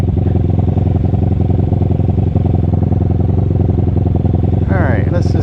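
A Kawasaki Ninja motorcycle engine idles steadily high and loud with an erratic idle, a continuous close, throbbing drone that runs throughout, with a brief higher-pitched sound near the end.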